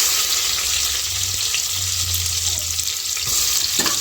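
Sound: onion frying in oil for chicken biryani

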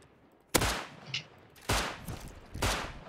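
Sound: gunfire in the video game Rust

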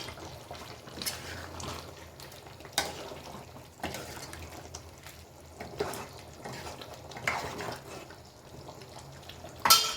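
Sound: stirring biryani curry in a pan

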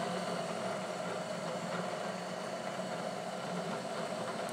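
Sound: milling machine running at 600 RPM on cast iron

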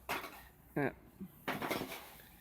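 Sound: stirring homemade rat feed mixture in a mortar basin

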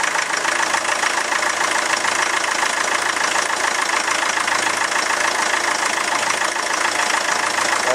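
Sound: diesel engine idling

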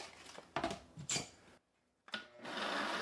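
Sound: blender pureeing frozen strawberries

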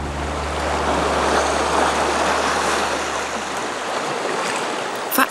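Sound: Baltic Sea waves on the shore near Staberhof lighthouse

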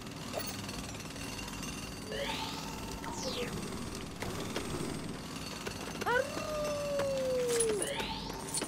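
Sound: dog howling in LEGO Star Wars The Skywalker Saga video game

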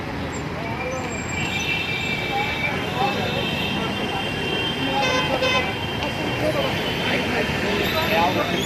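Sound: night traffic with honking vehicles at Navale Bridge, Pune

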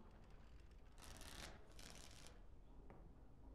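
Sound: cards being shuffled for Wicked Grace in video game Dragon Age Origins

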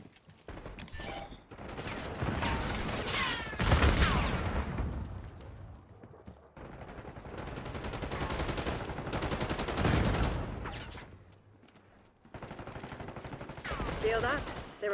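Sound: gunfire in the video game Black Ops 6

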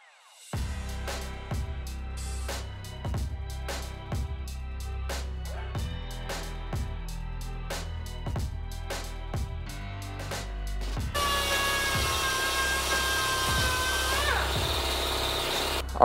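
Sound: welding a cracked Hayabusa engine case

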